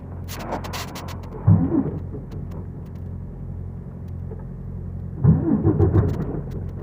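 A Freightliner Cascadia truck's diesel engine tries to cold start in freezing weather: a low cranking rumble with two bursts of coarse sputtering roar as it nearly catches, over a steady idle-like drone.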